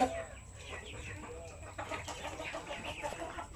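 Native chickens cluck softly nearby in a farmyard where hens brood eggs without an incubator, with low, scattered calls throughout and no talk.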